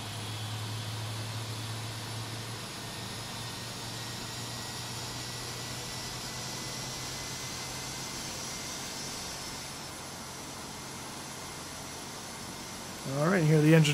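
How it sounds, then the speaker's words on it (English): A steady Boeing 717 jet engine drone in a flight simulator game, with a low hum, spooling up as fuel kicks in, the tone shifting slightly before a louder burst of sound near the end. "you hear the engine kind of stabilize out"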